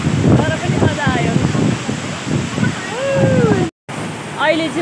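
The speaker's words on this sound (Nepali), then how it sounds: "यहाँको छाँगा त्यस्तो राम्रो भइरहेको छ" Neya Falls rushing continuously, a broad, loud roar of falling water with wind buffeting the microphone and people talking and calling out over it.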